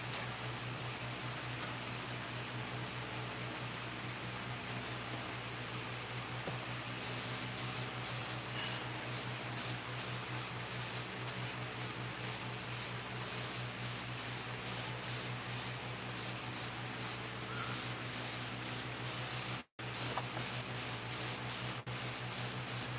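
Paint spraying in a chainsaw-carving workshop with fans running to blow the overspray away; a steady hiss with a constant fan hum underneath, the spray pulsing on and off in rapid bursts for most of the clip, briefly cutting out near the end.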